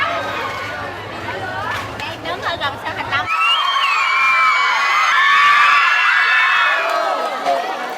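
A crowd packs the streets of Ho Chi Minh City, Vietnam, welcoming footballer Park Ji-sung ahead of a charity football match. Dense chatter and shouting run throughout, swelling into sustained loud cheering and excited screams in the second half.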